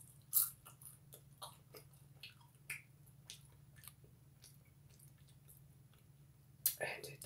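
Snickers candy-coated popcorn being chewed close to the mic: sharp crunches and wet bites come in an uneven rhythm over a low steady hum, with loud crisp bites near the start and end.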